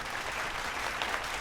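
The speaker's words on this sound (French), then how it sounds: "Merci, applaudissez pour vous-même." Brief burst of audience applause at the first prime-time show of the Uwezo Fashion competition, many hands clapping in a dense, even wash.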